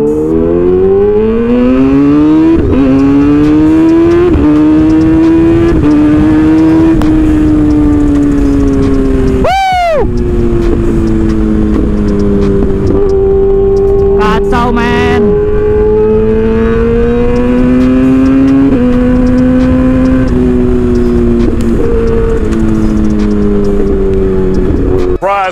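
A motorcycle accelerates hard on an empty road, its loud engine note rising and holding in long revving sweeps, with quick shifts and brief passing whooshes, close and dominant throughout.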